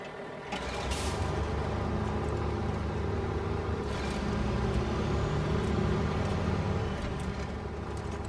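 A truck engine with a smoky old exhaust in the video game Snowrunner rumbles steadily with mechanical clanks and a brief hiss, the drone holding at an even level throughout.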